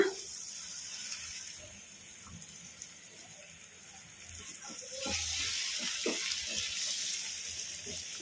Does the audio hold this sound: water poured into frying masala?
yes